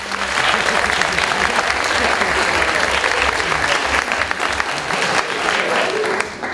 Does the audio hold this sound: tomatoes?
no